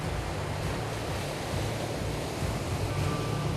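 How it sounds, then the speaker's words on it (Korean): Rough, unusually strong ocean waves off a South Indian fishing coast in the Indian Ocean surge and break in a dense, continuous roar with gusty wind noise on the microphone, loud and close with no talking. "평상시와 달리 파도가 거세 위험한 상황."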